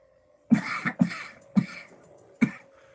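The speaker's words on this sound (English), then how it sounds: "just me coughing's doing it." Four separate coughs, close and fairly loud, with short quiet gaps between them over a faint steady background hum.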